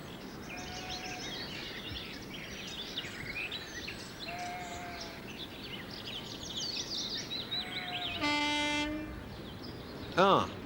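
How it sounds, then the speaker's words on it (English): A British Rail diesel multiple unit train runs with a steady rumble throughout, with a short horn blast near the end and a brief high whistle-like call at the close, birds faintly audible. "the familiar cry of the lesser-spotted DMU"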